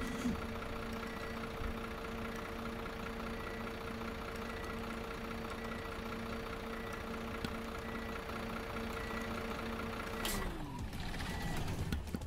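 An Irisbus Arway bus engine idles in the OMSI 2 driving simulator, a soft, steady low hum with a constant drone that winds down near the end as the engine shuts off, with no voices.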